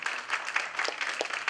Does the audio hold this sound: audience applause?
yes